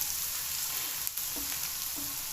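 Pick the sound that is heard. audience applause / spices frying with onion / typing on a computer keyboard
spices frying with onion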